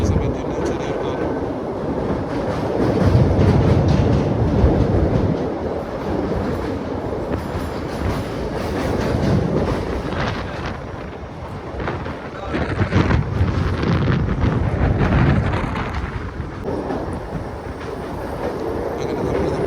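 A Madurai–Rameswaram passenger train crosses the Pamban bridge, its steady rumble and rattle carrying on throughout, with buffeting wind noise across the microphone.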